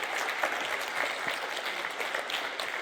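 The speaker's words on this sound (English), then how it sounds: "A round of applause for that story." A career networking group meeting in Frisco breaks into applause, a fairly quiet but steady patter of many hands clapping that holds evenly, heard from a slight distance.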